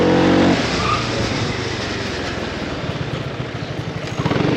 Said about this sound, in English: The ABS pumping.